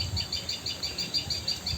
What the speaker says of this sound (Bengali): এই যে পাখিটা যে ক্যাশ ক্যাশ করতেছে